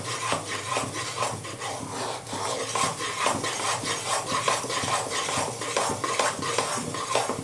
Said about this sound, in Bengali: এটা আমাকে একভাবে এইভাবে নাড়তে হবে, যতক্ষণ না একটু শুকনো হয়ে আসে